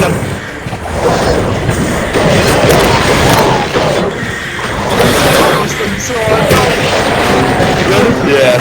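Video game gunfire rattles in repeated bursts over a busy, loud battle mix, with people talking throughout.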